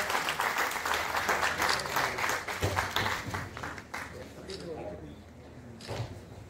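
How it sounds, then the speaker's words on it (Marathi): Hall audience applauding to welcome a guest at a Maharashtra electricity technical workers' union farewell and felicitation ceremony, dense clapping that swells and then thins out toward the end. "आपण टाळ्या वाजवून या ठिकाणी स्वागत करूया"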